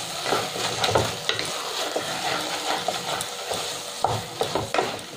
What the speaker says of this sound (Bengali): দিয়ে আমি খুব ভালো করে মিশিয়ে নেব।